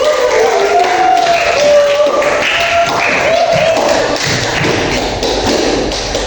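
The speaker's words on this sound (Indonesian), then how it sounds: "Tepuk tangan dulu buat kalian." A school class applauds together, steady loud clapping lasting several seconds with some scattered taps and a faint voice over it.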